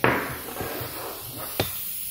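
Short bursts of compressed air hiss from a rubber-tipped air line pressed into an engine compression gauge, with a sharp puff at the start, a softer one mid-way and another near the end.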